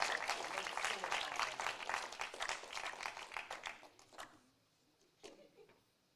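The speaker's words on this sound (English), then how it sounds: "Give each other a round of applause." An audience at a public presentation and awards event claps together in a dense burst of applause that fades out over a few seconds, leaving a few scattered sounds and a brief voice at the end.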